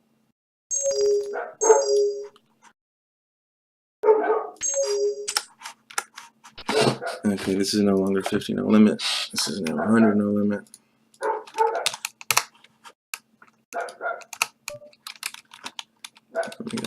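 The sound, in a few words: dogs barking outside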